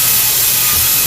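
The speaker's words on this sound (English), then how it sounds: "Then we're going to drill up." A power drill bores holes into a freezer panel, a loud, dense grinding whir that runs without a break, close up, with no talk.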